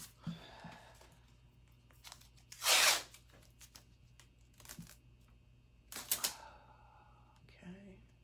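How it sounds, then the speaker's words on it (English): Adhesive tape is torn off a roll in a couple of sharp, loud ripping bursts, with quieter rustles and taps as it is pressed along the edges of a table during a makeover, and a voice speaks briefly at the end. "You get the thrill of watching me tape off."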